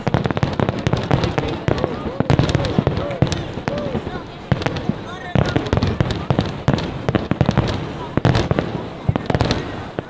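Fireworks bursting over a Wisconsin Dells resort, a dense run of sharp booms and crackles filling the sky, loud and fairly close, with voices murmuring in the crowd throughout.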